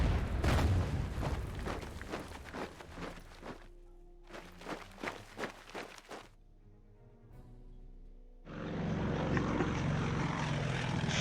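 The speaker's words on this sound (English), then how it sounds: "Fly the bombers away." Bombers fly in the World War II strategy game Order of Battle, with propeller engine drone in loud bursts, a short quiet gap, then a sustained engine roar returning strongly at the end, no speech.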